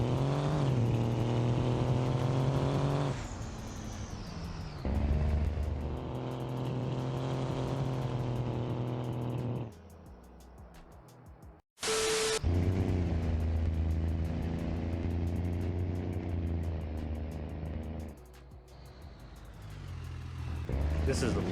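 Old big truck engine running in BeamNG Drive, a steady harmonic drone that shifts pitch with revs, with a brief break near the middle, heard under speech.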